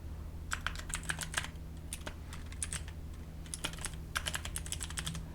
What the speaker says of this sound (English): Now type this code,